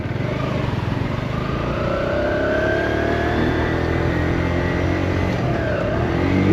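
A Kawasaki Z125 Pro motorcycle engine revs and holds high rpm during wheelie practice, loud and close, pitch rising and falling with throttle changes.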